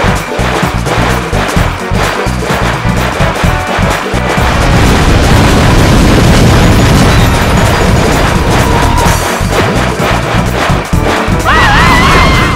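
Fire blasts in a Mario Party 4 minigame at Toad's Midway Madness, loud crashing booms layered into dense, continuous game music and effects that fill the whole stretch.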